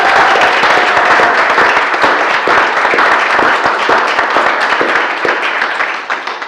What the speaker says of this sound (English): So I would like to give these guys a round of applause right now.